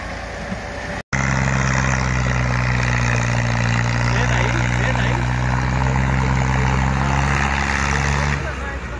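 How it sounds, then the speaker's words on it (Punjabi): A 240 tractor pulling a fully loaded 14-foot trolley drones loudly and steadily at close range, a heavy continuous engine hum holding for several seconds after a brief cut. "240 ਟਰੈਕਟਰ, 14 ਫੁੱਟੀ ਟਰਾਲੀ, ਫੁੱਲ ਲੋਡ।"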